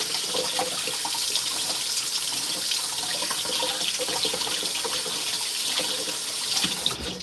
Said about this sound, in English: I'm going to just rinse it off.